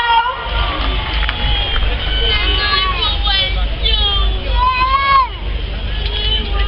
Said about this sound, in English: Come on, let's cheer them on.